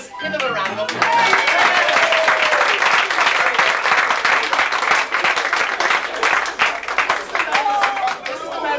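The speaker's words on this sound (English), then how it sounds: "Give them a round of applause" Loud, sustained applause from a pub audience at a pantomime in the Victoria Pub, Birmingham, a dense crowd of hands with cheers and whistles over it, swelling and continuing throughout.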